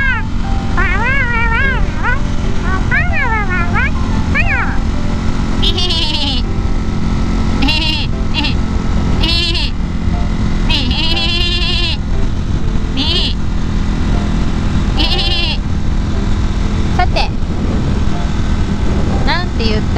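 A woman imitates Shaun the Sheep with wavering, voice-made bleats and bits of talk at the Bihoro Pass lookout in Hokkaido during a motorcycle trip, all under constant strong wind noise.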